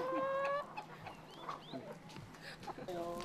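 Roughly 170 free-range hens on a small egg farm cluck and squawk close by, with a drawn-out rooster-like call at the start and end and scattered busy clucking between, fairly faint.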